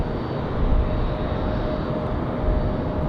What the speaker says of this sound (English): Enjoy the Aer Lingus arrival.